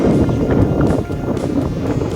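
Gusty wind in a park buffets the microphone with low rumbling roar, rising and easing in uneven bursts, loud and close throughout.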